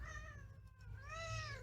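A pet cat meows twice in a room, a drawn-out cry followed by a second rising and falling meow, close and clear over a low steady hum, with no talking.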